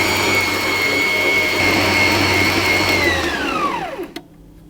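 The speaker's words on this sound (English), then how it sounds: "I'm going to turn the speed up to a medium speed, and I will allow it to knead" A stand mixer kneads Italian bread dough at medium speed, a loud steady whirring motor whine heard close, which winds down and stops near the end.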